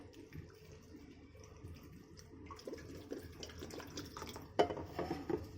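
Flattened rice (chuda) being washed in plain water for no-cook ladoo, a soft continuous wet swishing and trickling that builds toward the end with a few sharper splashes, close by and with no talking.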